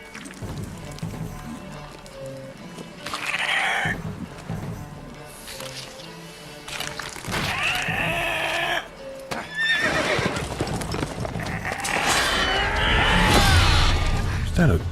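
Horse whinnies and hoofbeats from The Witcher 3: Wild Hunt on PC, with several neighs rising out of game music and combat noise, and voices talking in between.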